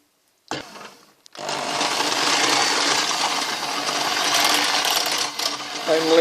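Electric mixer blending chunks of an ice cream base made with hot milk, a brief start and stop, then a steady loud whirring drone that runs to the end.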